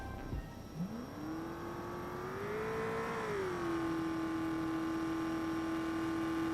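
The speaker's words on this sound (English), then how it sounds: "Racing in the 96 Kinetic truck." A 96 Kinetic racing truck engine in BeamNG desert Baja racing revs up from a low start into a rising whine that peaks and settles into a steady high drone, moderately loud with no talk.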